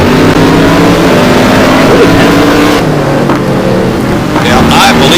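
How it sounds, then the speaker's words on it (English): A Koenigsegg engine in a GT1 racing game at Estoril roars loud and close among other cars, with pitch shifting as it revs, under race commentary. "I believe I do hear a Koenigsegg coming up behind Savoie."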